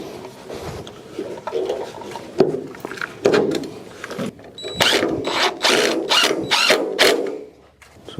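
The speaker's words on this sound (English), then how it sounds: "we're just finishing inserting and installing our screws, fastening them in" Screws being driven into the jamb frame of a black iron bi-fold door, heard as a run of close mechanical ratcheting and grinding bursts with short pauses between them and no talking.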